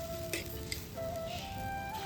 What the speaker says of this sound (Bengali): এবার ঝোলটা ফুটে গেছে